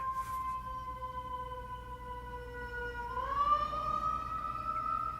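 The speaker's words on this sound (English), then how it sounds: "And now, let's see the ambulance go by." Wailing siren of an ambulance passing a building, heard from a window, a steady distant tone that slides upward in pitch midway as the vehicle goes by, faint and alone.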